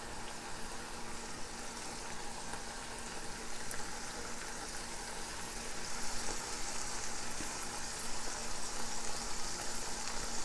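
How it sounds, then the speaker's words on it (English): Olives drop into a hot pan of Sicilian-style peppers, which gives a steady crackling sizzle that grows slightly louder partway through, with no voice over it. "Now we're going to add our olives in."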